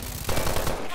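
A short, loud, rapid burst of automatic machine gun fire in the shooter game Call of Duty: Advanced Warfare, dense and continuous for about a second.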